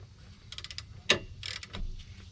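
Hand ratchet tightening rear brake caliper bolts on a 2012 Nissan Rogue 2.5 S: several quick clicking bursts and one sharper metallic snap, close and moderately loud over a low background rumble, no talk.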